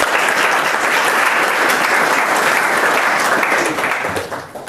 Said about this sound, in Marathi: त्याबद्दल आपण सर्वांनी त्यांना एकदा टाळ्या वाजवून जोरदार धन्यवाद द्यावे